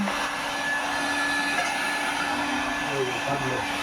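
A hair dryer blows steadily and loudly on long hair, a constant close whoosh that runs unbroken the whole time, with faint voices underneath.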